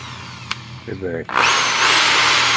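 A Bosch electric drill spins up in reverse, a loud steady motor whine with a rising high pitch that sustains to the end, preceded by a brief click and a short murmur.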